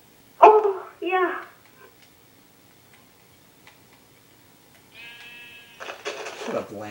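A sheep in the Minecraft video game bleats twice in quick succession, loud and close, followed by a quiet stretch and then a player talking.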